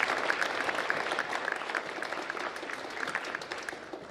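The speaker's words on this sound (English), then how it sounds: "please, another round of applause for our families" Steady applause for families from an audience at an academic awards ceremony, a continuous soft patter of clapping heard from a distance.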